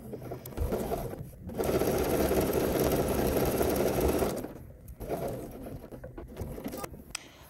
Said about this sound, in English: We're sewing at 5/8 of an inch seam allowance.